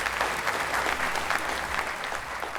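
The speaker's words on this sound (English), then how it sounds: "You can clap if you want." A crowd at a literary anniversary celebration applauds, a full, continuous burst of clapping that fades slightly toward the end, with no speech over it.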